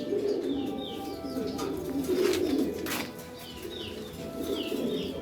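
Lakkha fantail pigeons with their young coo in low, repeated murmurs while wings flap in a quick burst near the middle, all close and moderately soft, with light chirps mixed in.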